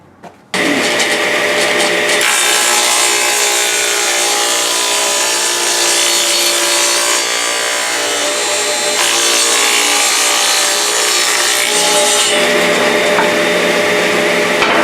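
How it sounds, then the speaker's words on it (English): A power saw trims a thin strip off a piece of plywood, starting abruptly and holding a loud, steady whine for about fourteen seconds with no talk. "I want to cut off a little bit of this piece of plywood because I want it totally even with the saw blade"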